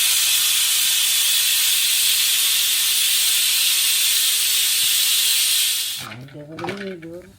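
A mixer grinder whirs steadily and loudly as it grinds grated coconut with green chillies for a ridge gourd curd dish, then cuts off, and a voice speaks briefly at the end.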